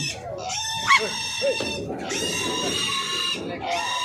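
Pigs squealing and grunting nearby at a livestock stockyard in a steady, noisy chorus, with high-pitched squeals rising over lower grunts throughout.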